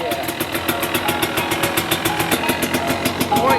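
A 2023 KTM 300SX two-stroke dirt bike engine runs close by in cool weather, a rapid, steady buzzing idle with rhythmic pulses and a slight rev near the end, no talking.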